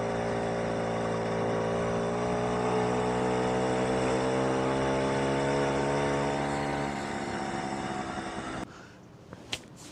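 A Puch Maxi two-stroke moped with an upgraded exhaust riding at speed: a steady, buzzing engine drone whose pitch climbs slowly, then drops away abruptly near the end, leaving wind noise and a few knocks.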